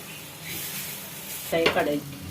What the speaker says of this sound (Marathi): बॅटर तवार घालून घेऊया